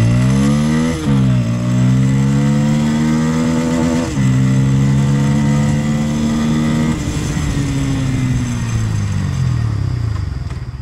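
A Bajaj Pulsar N160 motorcycle engine runs loud and close, revving with shifting pitch, then winding down steadily as the bike slows under braking, with no talk over it.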